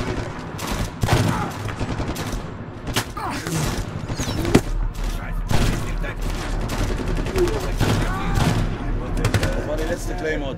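Rapid bursts of automatic gunfire and heavy shots from the Medal of Honor Tier 1 video game, loud and sustained across the whole stretch, with low booms mixed in and voices talking underneath.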